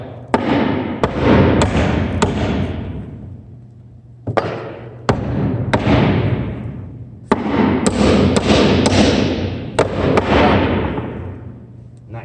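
Hammer nailing wooden bulkhead boards into place, a series of sharp, loud impacts in clusters of three or four with short pauses between, each strike ringing out close and clear over a low steady hum.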